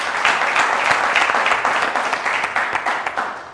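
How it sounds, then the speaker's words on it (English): An audience at a school quiz competition claps in loud, steady applause that gradually thins toward the end, close and without speech over it. "Let's give a huge round of applause"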